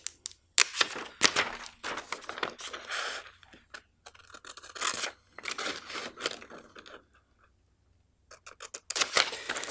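Scissors cut out a paper spectroscope template along a solid line, making close, sharp snips and crisp paper rustles in irregular bursts with short quiet gaps.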